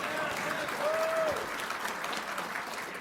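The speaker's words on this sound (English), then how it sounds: "Everybody give Sam Karnick a round of applause." A conference audience gives a round of applause, steady dense clapping from many hands in a large hall, continuing evenly throughout.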